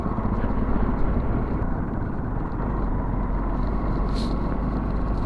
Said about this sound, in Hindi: और अपनी बाइक बेचारी दम तोड़ रही है, क्योंकि काफ़ी स्टीफ है चढ़ाई